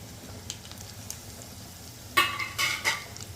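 Coriander and mustard seeds fry in hot oil for a sambar-style gram dal stew, with a low steady sizzle broken by a few loud crackling bursts near the end.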